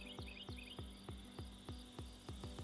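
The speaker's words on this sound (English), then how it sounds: "It is nighttime, I hear the crickets." Crickets chirping at night in a video game, with a regular rhythmic pulse of chirps about every quarter second and a faint high insect trill, quiet and alone.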